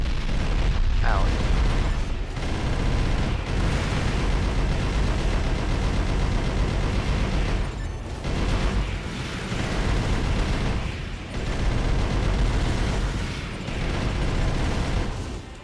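Assault armor attack explosions from a mech in Armored Core: For Answer. They form a dense, roaring wall of blasts and mechanical rumble that pulses with brief dips over about fifteen seconds, with a voice talking over it.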